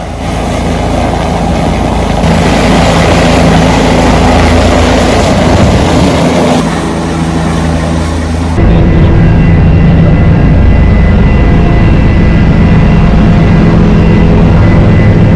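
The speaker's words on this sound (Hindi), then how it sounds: "यहाँ पे अभी हेलीकॉप्टर आ चुका है इन लोगों का" A helicopter engine and rotor run steadily and loudly throughout, a heavy constant roar with low throbbing that shifts slightly in tone partway through.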